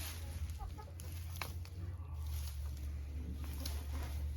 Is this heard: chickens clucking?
yes